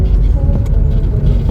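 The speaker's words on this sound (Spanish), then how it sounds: "Viene un auto enfrente" An oncoming car passes on the road while the listener's manual car turns through a bend, with steady road and engine rumble filling the short moment and no clear peak.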